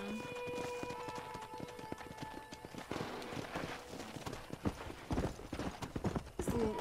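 Horse hooves clip-clop in the Red Dead Redemption video game, a rapid galloping patter that grows busier and louder over several seconds, with a brief whinny.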